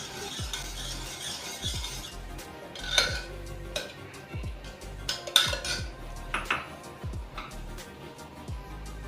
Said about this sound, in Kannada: ಒಂಜಿ ಸತಿ ತೋವೆನ ಸಮ ತಿರ್ಗಲೆ